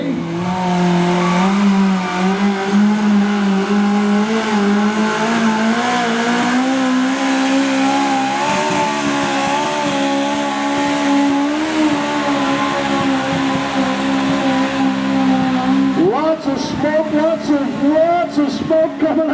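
Modified lawn tractors at a 2014 tractor pull run snowmobile and V8 Chevrolet engines. One loud engine holds a sustained roar that slowly climbs in pitch and then jumps to a higher rev near the end, with an announcer speaking over it.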